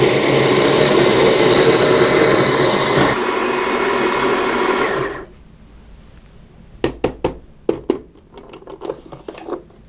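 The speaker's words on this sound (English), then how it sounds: "it's time now to go ahead and grind the beans" An electric grinder whirs loudly through coffee beans for a V60 pour-over, a dense steady roar for about five seconds that stops abruptly, followed by several sharp taps and knocks.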